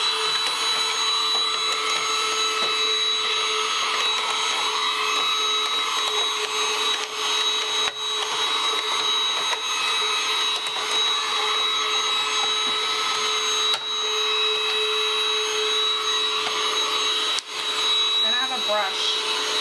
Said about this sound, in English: handy dandy vacuum.